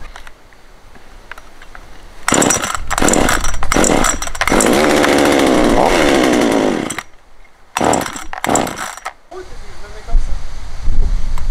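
A small 25.4cc chainsaw with a copied Walbro-style carburettor starts and runs loud and close, revving in bursts that cut out and restart, with a short steady stretch of engine roar in between.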